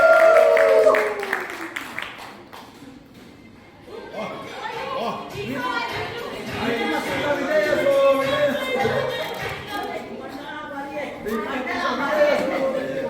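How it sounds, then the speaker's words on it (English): A live audience claps and cheers for a stage performance, the applause swelling into a steady, dense roar that carries on under crowd chatter and voices. "Let's have a huge round of applause for Preeti Masi."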